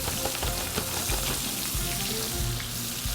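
Flour-coated beef tips sear in a hot pan with a loud, steady, close crackling sizzle that runs throughout, with occasional soft pops and shifts.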